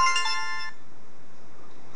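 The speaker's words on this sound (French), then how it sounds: "il y a déjà plein de nouvelles sonneries qui ont été ajoutées" "Énergie", a Windows Phone Mango ringtone, rings out as a short, bright electronic chime of a few rapid tones lasting under a second, then cuts off to a quiet hiss.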